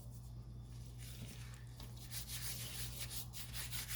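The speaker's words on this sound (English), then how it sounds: "Rub that spices in there, guys." Hands rub spice mix into raw steak, a steady soft scraping friction close by that keeps going over a low constant background hum.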